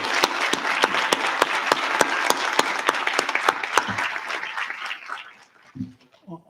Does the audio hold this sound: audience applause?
yes